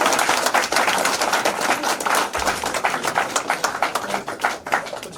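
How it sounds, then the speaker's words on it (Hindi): An audience at a leadership program gathering in Mount Abu breaks into loud, dense clapping, many hands striking fast and close together for several seconds with no voices over it. "थोड़ा सा एक बार जोरदार ताली।"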